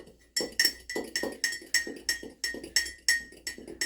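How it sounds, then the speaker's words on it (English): A spoon clinks rhythmically against a ceramic mug while beating an egg into chocolate chip cookie dough, about a dozen sharp, bright taps in a steady stirring beat, close and alone. "I'm gonna mix the egg in there"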